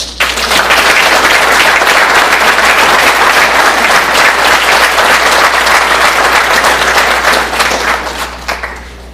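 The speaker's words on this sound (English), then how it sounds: "Let's give a nice big round of applause" Loud audience applause for an inductee at the ESU Athletic Hall of Fame ceremony, a full, sustained roar of clapping that fades out at the end.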